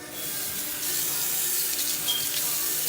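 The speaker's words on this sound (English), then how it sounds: "I just take the spray nozzle and I start to spray it." Warm water jets from a sink spray nozzle in a steady hiss that swells after a moment and keeps going, close and alone.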